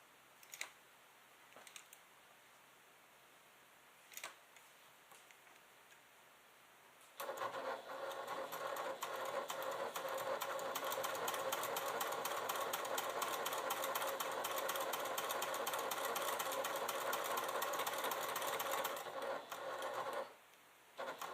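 Sewing machine stitching around a quilted leather clutch, a few brief mechanical clicks and whirs and then a long, steady, close rapid hum of stitching that stops near the end before a short restart.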